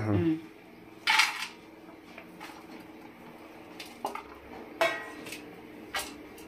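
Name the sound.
handling a large vessel while adding chopped vegetables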